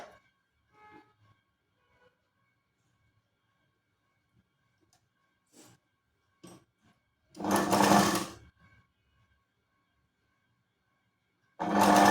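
A sewing machine stitches a katori blouse in two short runs of whirring, with quiet handling sounds and light clicks in between and no talk.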